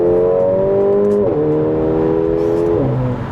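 Mercedes A45 AMG with a modified sports exhaust, its engine droning loud and close in a steady high-revving tone, with two brief dips as gears change.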